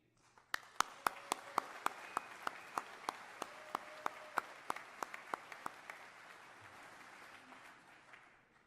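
Crisp claps land in a steady rhythm, then fade into a soft, diffuse wash of crowd applause at the 2018 Mississippi State of the State address.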